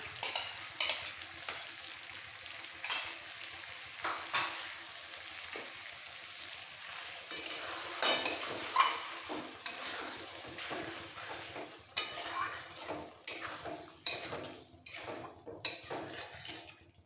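Potatoes being sautéed with spices in a pan for a soybean and potato curry, with whisked sour yogurt stirred in; soft sizzling underneath irregular scraping and clinks of a ladle against the pan, quiet and close, no talking.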